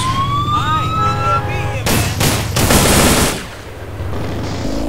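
Gunfire from police shooting out of their vehicles in a modded GTA game, sharp bursts in a dense run over a wailing siren with other game noise, loud and close.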